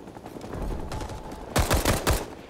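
Gunfire in a battle in a Plastic Wars game, a distant rattle of shots followed by several loud, sharp rapid bursts close by.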